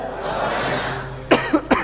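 Three sharp, loud coughs come close to the microphone in quick succession near the end, during a religious lecture with a faint hiss of room noise before them.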